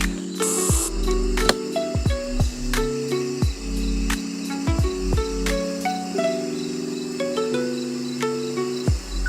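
A colony of honeybees hums at an opened hive, a steady close drone that runs through the whole stretch, broken by repeated sliding, whistly sweeps.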